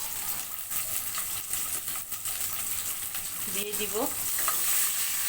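Green chillies tossed into a little hot oil and stirred, with a steady sizzle and scraping under a brief voice, while a seafood curry is being made.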